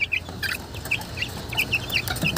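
Several chickens in an overcrowded coop cluck in short, repeated bursts at close range, over a steady background murmur of the flock.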